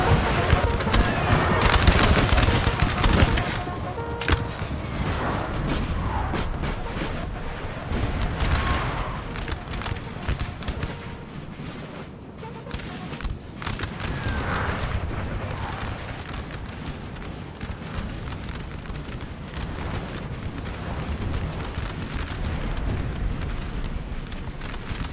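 Musket volleys and artillery fire rumble through a Napoleon: Total War 4v4 land battle, a dense, continuous roar of massed gunfire with heavier booms, loudest in the opening seconds, with a commentator talking over it.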